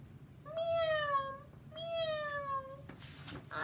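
Two drawn-out cat meows, one after another, clear and close, used as a sound effect while a picture book about animals is read aloud; no speech over them.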